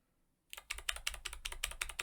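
Kailh Navy clicky keyboard switches with 60 grams of actuation force are pressed quickly one after another, each press giving a crisp, sharp click in a fast uneven run that starts after a short silence, close and fairly quiet.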